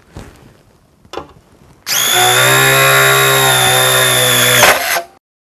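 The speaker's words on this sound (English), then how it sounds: "And speed 3 is also perfect for drilling into metal." A Bosch cordless impact driver on its third speed setting drills into metal, producing a loud, steady high-pitched whine lasting about three seconds after a couple of short handling clicks.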